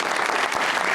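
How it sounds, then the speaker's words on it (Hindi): Studio audience of a television talk show applauding, a short, dense burst of clapping about a second long. "तालियां"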